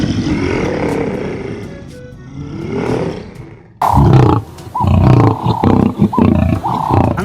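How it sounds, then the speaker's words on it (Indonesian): A lion roars in long, heavy rumbling bursts, first one sustained roar and then a louder, closer series of deep growling roars with short gaps. "Seekor singa."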